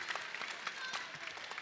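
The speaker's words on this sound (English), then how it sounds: "A big round of applause for Abra." Applause from an audience at an event for young authors, a steady wash of many hands clapping at moderate level, continuous and fairly distant for a short burst.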